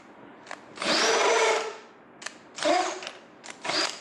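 A power drill bores holes in metal, with bursts of high whining cutting roughly half a second long, separated by short pauses and brief clicks, close and fairly loud.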